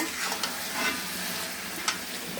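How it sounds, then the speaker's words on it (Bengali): Oil sizzles steadily in a pan as a curry is fried down while a spoon scrapes and stirs through it every so often, close and continuous. "এদিকে তরকারি কষিয়ে নিয়েছি প্রচুর সুন্দর করে তরকারি কষিয়ে নেওয়া হয়েছে"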